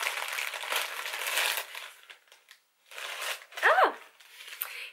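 AliExpress parcel being torn open by hand, rustling, crinkling plastic and paper tearing in close, uneven bursts with a short pause between them, and a voice speaking briefly.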